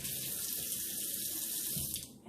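Cold water runs steadily from a tap in a continuous broadband hiss and splash, close and fairly quiet, with no voices.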